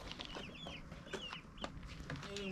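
Busy chorus of high-pitched peeping chicks with occasional clucks, faint and continuous, overlapping chirps filling the background.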